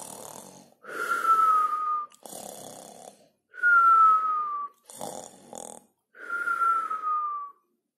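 A narrator's voice imitates the Gruffalo snoring: three long, wheezy, whistling snores, each followed by a shorter snorting breath, repeating in a slow, even rhythm close up.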